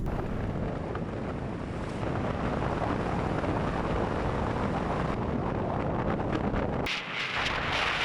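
A car drives along a road with constant engine and road rumble mixed with buffeting wind noise, steady and fairly loud throughout, with a brief shift near the end.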